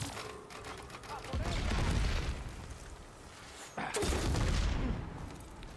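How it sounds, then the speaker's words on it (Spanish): Explosions in the video game Horizon Forbidden West, two heavy booming blasts with crackling bursts, each swelling loud then fading, separated by a quieter stretch. "No sirve de nada la explosión"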